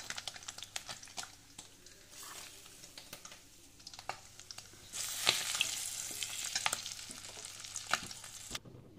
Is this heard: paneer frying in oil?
yes